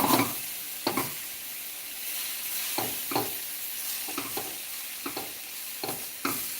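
Leeks sizzle steadily in a pan while a spoon stirs them, with soft scraping clicks recurring every second or so over the constant frying hiss, close and moderately loud.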